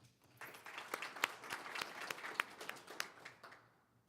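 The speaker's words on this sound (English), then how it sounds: "One more round of applause for these students." Applause for students at a school board meeting, a small group clapping with distinct individual claps, fairly faint and brief before fading out.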